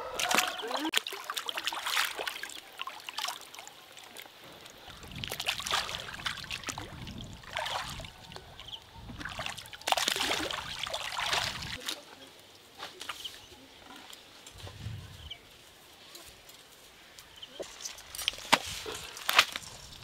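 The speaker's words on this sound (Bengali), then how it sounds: "ধুয়ে নিয়ে আসি পুকুরে ভালো করে।" A large pangas fish of about 7 kg being washed in a pond gives irregular splashes and trickling water, close and uneven, with people talking intermittently.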